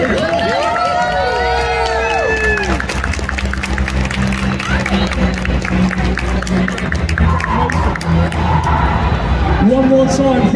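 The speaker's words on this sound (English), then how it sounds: "You give an applause for this lady right here." At an Insomnia i70 gaming event, an audience keeps up loud, dense applause and cheering, with shouts and whoops rising and an announcer speaking over the crowd.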